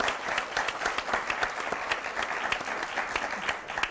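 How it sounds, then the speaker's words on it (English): An audience claps steadily in a dense, even round of applause throughout, moderately loud in a room, with no voices over it. "How about a round of applause?"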